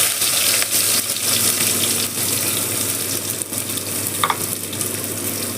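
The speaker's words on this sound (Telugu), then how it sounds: "ఒక 2 గడ్డల ఉల్లిపాయలు," Onions fry in a pan of oil with whole spices for tamarind rice, a steady close sizzle with occasional stirring scrapes.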